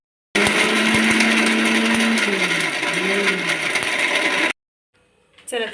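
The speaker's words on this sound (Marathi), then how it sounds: "छान मिक्सरला बारीक करून घ्यायचं" An electric mixer grinder whirs loudly and steadily for about four seconds while grinding ingredients for shev bhaji into a fine paste, its motor pitch shifting slightly as the load changes, then it stops abruptly, followed by faint clinks.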